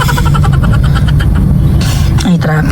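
Car engines idling and rumbling in congested street traffic, loud and close with a steady low hum and scattered mechanical knocks near the end.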